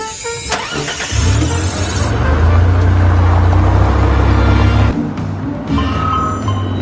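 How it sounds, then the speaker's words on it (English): A car engine cranks over and catches, settling into a loud, steady idle up close. It drops off abruptly a few seconds later and then resumes more quietly amid cabin noise. "I'm starting the car."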